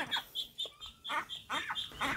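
A young duckling, nearly grown, gives a run of short, high peeping calls in quick bursts, fairly close and moderately loud, with faint background noise between them.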